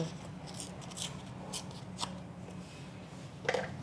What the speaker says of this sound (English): So I'm just going to do some simple paper tearing. Just tear off the paper